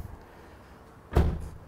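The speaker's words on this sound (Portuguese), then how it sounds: "eu vou fechar a porta" A car door on a Hyundai HB20 being shut: one short, solid thud, close by, after a quiet stretch of room noise, with a little rattle as it settles.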